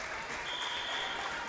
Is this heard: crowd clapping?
yes